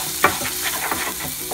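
Spices, including coriander powder and salt, stirred in a frying pan for a Hyderabadi lukmi filling, with soft scraping strokes over a steady low sizzle and one sharper clink near the start.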